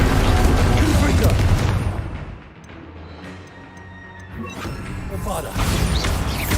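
Confringo fire blasts in Hogwarts Legacy crash in loud, dense bursts at the start and end, with a quieter rumbling stretch in between and background game effects throughout.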